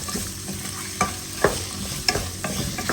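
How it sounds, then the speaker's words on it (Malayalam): Potatoes sautéing in hot oil in a pan, a steady close sizzle broken by several sharp scraping stirs of a spoon against the pan, with no one speaking. "ഇതുമായിട്ട് നന്നായിട്ടൊന്ന് വഴറ്റി കൊടുക്കാം"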